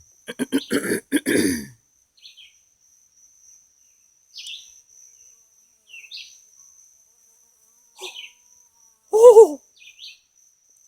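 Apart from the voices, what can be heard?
buzzing hornet-like insect flying near the microphone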